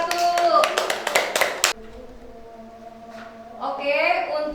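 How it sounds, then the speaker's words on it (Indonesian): A brief round of clapping for a group in a classroom-style session bursts out for under two seconds and stops abruptly, followed by quieter voices and talk. "tepuk tangan untuk kelompok 1"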